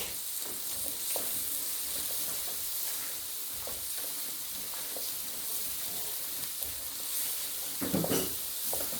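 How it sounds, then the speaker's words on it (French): Onion and garlic frying in a wok while making a potato and spinach curry: a steady, moderately loud sizzle with occasional stirring scrapes, getting louder toward the end, and no voices. "je prends l'oignon et l'ail. Voilà, je fais bien revenir dans le wok"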